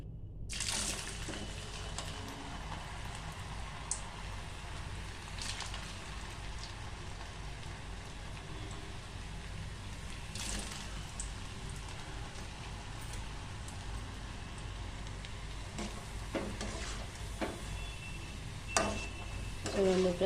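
Potato french fries sizzling in hot oil, a continuous hissing crackle like steady rain with occasional louder pops and bursts, close and moderately quiet throughout.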